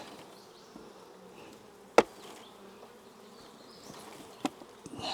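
Honey bees buzz steadily in a low, continuous drone close by during a hive inspection, with a couple of sharp knocks breaking through.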